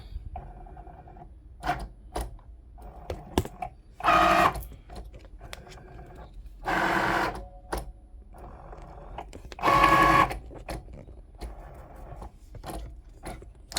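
A homemade-label cutting machine searches and cuts, with a scatter of small clicks and ticks broken by three louder whirring motor bursts, close and indoors, with no talking.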